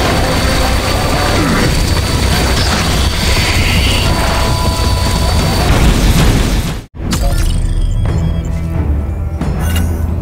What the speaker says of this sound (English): here we have the big laser beam of death